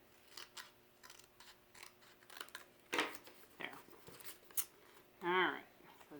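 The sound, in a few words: scissors cutting cardstock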